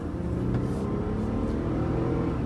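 A Jeep Gladiator Rubicon cruising on the freeway gives a loud, steady engine drone and road roar that runs unbroken from start to finish, with no talking.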